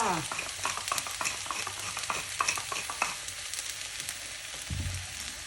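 A spatula clatters and scrapes repeatedly against a pan of frying egg and ham fried rice amid sizzling, with quick uneven strokes at first, then a softer steady frying hiss.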